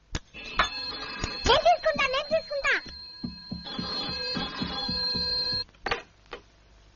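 A telephone rings in a film scene, with repeated electronic ringing tones running through the clip while a voice speaks briefly over the start of it.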